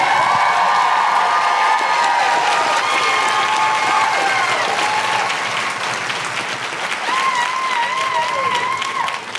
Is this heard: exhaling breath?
no